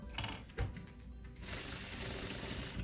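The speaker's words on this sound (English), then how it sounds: "I'm gonna sew that again real quick" A sewing machine runs steadily, stitching a swimsuit shelf bra, with a continuous mechanical whir after a few short bursts at the start, close and moderately loud.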